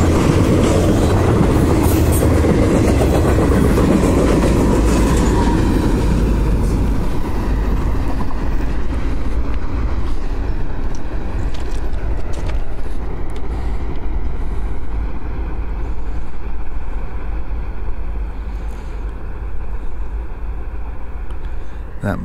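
A train rumbles past close by, loud and continuous with rattling wheels, gradually fading into a lower roar as it moves on.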